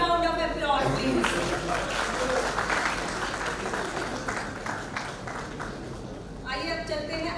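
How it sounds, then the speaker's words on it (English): An audience at the UCCI Excellence Awards 2022 ceremony applauds a company representative called to the stage. Warm, sustained clapping from many hands fills the middle, with voices talking briefly at the start and end. "A big round of applause, please."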